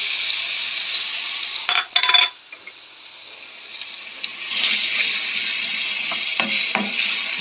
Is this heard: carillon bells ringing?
no